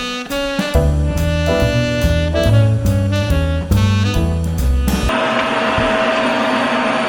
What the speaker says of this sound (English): It is time to vacuum.